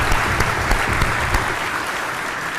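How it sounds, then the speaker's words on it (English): Steady audience applause at a conference general session fills the whole stretch, a dense, even wash of many hands clapping without pause or speech. "We applaud you."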